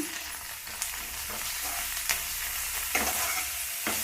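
Onions with garlic paste and green chili paste fry in a pan, a continuous close sizzle with periodic scraping strokes as the mixture is stirred, no voices present.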